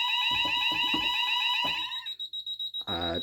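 A JSB FX2202 conventional fire alarm panel set to evacuate, blaring a loud continuous electronic tone with overlapping background speech, then stopping and giving way to a rapid pulsing buzzer.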